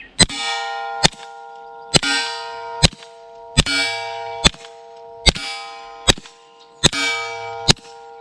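Sharp metallic clangs ring out repeatedly at a steady pace as suppressed .22 bullets hit a steel target, each hit leaving a bright, sustained ringing tone that fades before the next strike.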